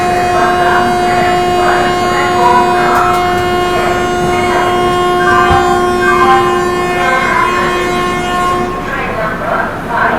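The 12020 Ranchi–Howrah Shatabdi Express sounds its horn at departure from Dhanbad: a loud, sustained two-tone blast, close by, over rail and station ambience with voices in the background.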